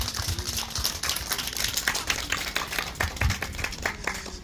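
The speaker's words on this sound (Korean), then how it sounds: "우리 하나님께 영광의 박수를 드리겠습니다." Scattered clapping from a church congregation during an outdoor Sunday service. The claps are fairly sparse and uneven, quiet and somewhat distant, and they fill about four seconds.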